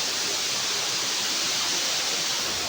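Gadgadi waterfall at Balanipashi rushes in a steady, dense hiss of falling water, loud and unbroken, with no voices.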